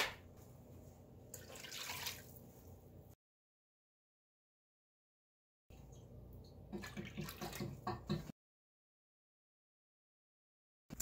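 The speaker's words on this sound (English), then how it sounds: "To that, we're going to add 4 cups of water." Water pours and splashes into a container holding apple cider vinegar in two separate stretches, quiet and close, with silent gaps between them.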